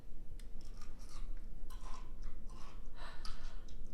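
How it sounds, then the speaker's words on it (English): Close, wet crunching of someone biting and chewing a crisp homemade refrigerator dill pickle, with repeated crackly bites over a steady low background hum. "I can hear your crunch all the way over here."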